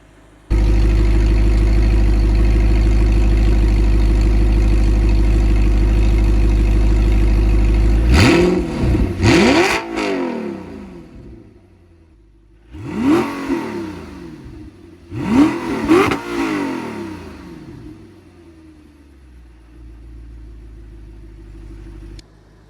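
Audi R8 V8 with a manual gearbox and open exhaust valves, loud and close: a steady, booming idle runs for several seconds, then three sharp throttle blips rise and fall, leaving a quieter idle at the end.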